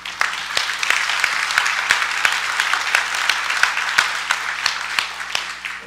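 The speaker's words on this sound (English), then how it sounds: "it occurred to me that this would be an easy way to get people to clap" A church congregation claps steadily for several seconds, a dense field of overlapping hand claps with sharper individual slaps standing out, moderately near and without voices.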